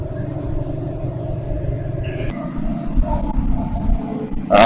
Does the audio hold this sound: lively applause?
no